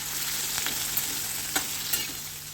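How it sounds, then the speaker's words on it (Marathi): Green chilies frying in hot oil, a steady close hiss and sizzle throughout with a few soft pops and stirring scrapes, no voices. "ह्या मिरच्या या तेलामध्ये परतून घ्यायच्या"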